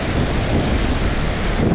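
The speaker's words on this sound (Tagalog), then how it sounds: "takot itong alon dito" Strong sea waves churn and surge under gusting wind during a heavy rainstorm on a rocky shore, a dense, steady roar that fills the whole stretch with wind buffeting close to the microphone, no voices.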